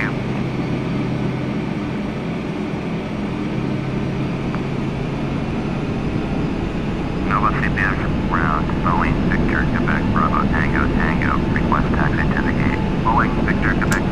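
A Boeing 757-200 jet landing at Tolmachevo airport gives a steady, loud engine roar throughout, with airport radio chatter heard over it in the second half.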